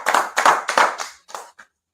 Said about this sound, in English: Clap up again